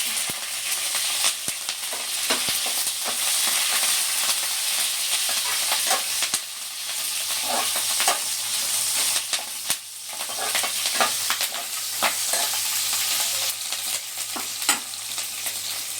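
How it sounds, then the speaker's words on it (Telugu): Mustard seeds crackle and pop in hot oil for tempering, sharp bursts scattered irregularly over a continuous sizzle, close and fairly loud throughout. "పోపు గింజలు చెప్పట్లాడుతున్నాయి కదా"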